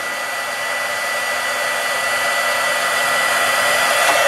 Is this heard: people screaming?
no